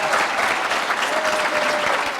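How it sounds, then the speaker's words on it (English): Applause for the panelists at a Quincy College early college pathway symposium. The clapping is full, continuous and close for the whole brief stretch, with no talk over it. "Can we give our panelists a round of applause?"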